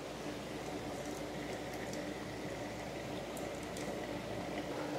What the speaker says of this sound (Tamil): இப்போ பாயசம் வந்து நல்லா கொதிச்சாச்சு.